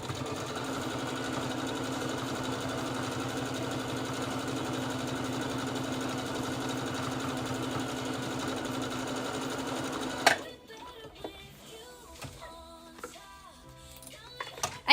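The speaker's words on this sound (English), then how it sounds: "And I'm going to sew Judy's piece" Sewing machine stitching fabric pieces together, a loud, steady mechanical whir and rapid ticking for about ten seconds that stops abruptly, followed by quieter handling clicks and rustles.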